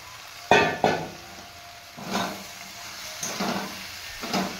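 Fried potatoes tipped into a pan of masala for an okra and potato curry, with two sharp clatters as they land, then a few scraping stirs amid a soft sizzle, close and moderately loud with no talking.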